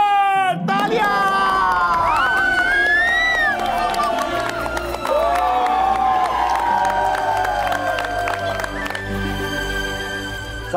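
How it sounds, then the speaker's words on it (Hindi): A studio audience at a televised stage performance cheers and applauds, with whoops and shouts rising over a sustained musical tone, loud and continuous for around ten seconds. "तालियां"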